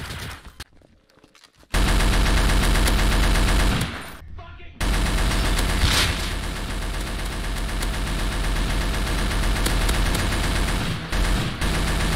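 Rapid automatic gunfire in the Garry's Mod video game rings out loud and sustained, with brief silent gaps near the start.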